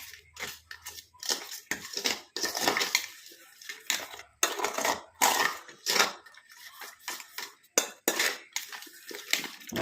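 A spoon clinks and scrapes against a bowl as powder is stirred into mango, a series of irregular close, moderately quiet clatters and scrapes with brief pauses.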